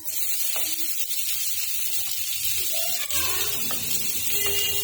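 Onions frying in hot oil while an Indian-style potato and tomato curry is cooked, a steady loud sizzle that keeps going with a few faint clinks.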